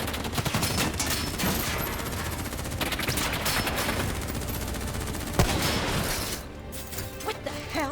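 Dense, sustained gunfire from multiple weapons during a Call of Duty Black Ops 3 combat cutscene, with rapid automatic bursts and sharp cracks layered continuously throughout, loud and close, easing slightly near the end.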